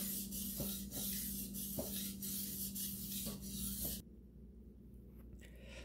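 A Shun kitchen knife glides over a wet budget whetstone in smooth repeated rubbing strokes, a soft close-up rasping rhythm that stops abruptly partway through, leaving a faint quiet tail.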